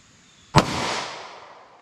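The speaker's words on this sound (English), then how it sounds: "let's see what we get here with our 38 special through a 2-inch barrel" A single sharp report from a .38 Special +P Federal Hydra-Shok round fired through a 2-inch snub-nose revolver, loud and close, followed by a decaying echo about a second long after near silence.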